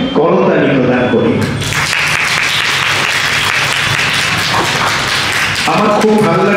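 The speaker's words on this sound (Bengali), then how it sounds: "তাই আমরা সবাই তাকে একটু শুভেচ্ছা জানিয়ে করতালি প্রদান করি।" Audience applause for the chief guest at a stage event fills several seconds with dense, even clapping, bracketed by a voice speaking before and after.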